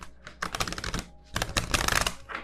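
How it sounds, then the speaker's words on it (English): Light Seers Tarot cards riffle-shuffled by hand, two quick rapid bursts of crisp card flutter and clicking, close and fairly loud, with no talking. "Let me see if I can actually shuffle this way."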